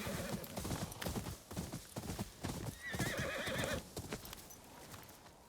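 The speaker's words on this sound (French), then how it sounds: "On va reprendre le cheval." A horse in the video game Ghost of Yōtei gallops with rhythmic hoof clip-clops and whinnies once partway through, then the hoofbeats continue and fade slightly, with no talking.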